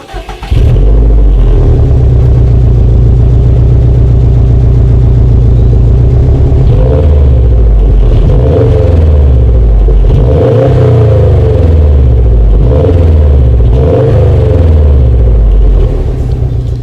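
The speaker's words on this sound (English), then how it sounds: "here is that exhaust clip" A 2018 Subaru WRX STI's exhaust roars loudly as the engine revs up and down in repeated surges, deep and rumbling, with no voices.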